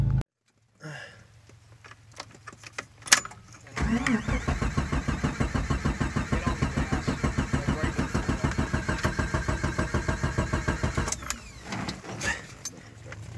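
A Jeep Comanche 4.0L straight-six in a dark garage cranks with a rapid rhythmic churn, catches, and settles into a steady idle, close by, with people talking around it.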